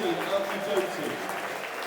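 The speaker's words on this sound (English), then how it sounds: "Danny Kelly getting a good applause, rightly so" Football crowd at a Bristol City versus Millwall match applauding midfielder Danny Kelly as he is substituted off, a steady wash of distant clapping from the stands with a commentator's voice over it.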